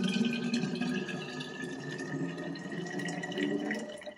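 Warm water poured steadily from a container into a bottle, a continuous close splashing, gurgling fill that runs for several seconds without pause.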